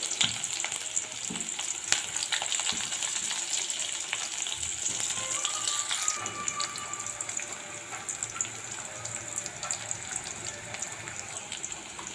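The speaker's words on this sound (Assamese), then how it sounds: "পিয়াজখিনি মই ৰঙা নোহোৱালৈকে ভাজি থাকিম।" Chopped onions fry in hot oil in a pan, giving a steady, continuous sizzle with stirring scrapes that runs close and fairly loud throughout.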